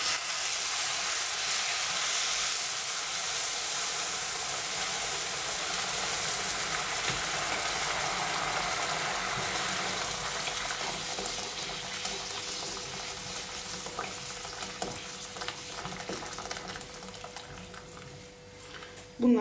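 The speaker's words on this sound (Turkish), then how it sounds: "üzerine sıcak su ekliyorum ve pişmesini bekliyorum" Hot water poured into a pot of lentil soup with potatoes and onions, a steady close rushing pour with sizzling that gradually softens over nearly twenty seconds, ending with a brief knock.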